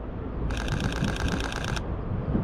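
A rapid, very fast burst of Sony A7 III camera shutter clicks in high plus burst mode, rattling continuously for over a second, heard close over steady background noise.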